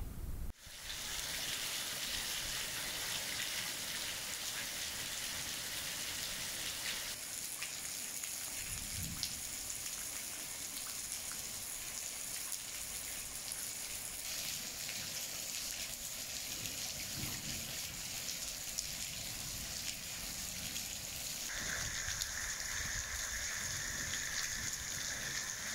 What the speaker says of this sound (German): ich blende einfach mal kurz ein paar Aufnahmen für euch ein, wie stark es geregnet hat